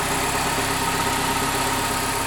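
A 2007 Saturn Sky roadster with a 2.4-liter Ecotec inline four-cylinder, non-turbo, idles in a steady, even drone with a low rumble and no other sounds.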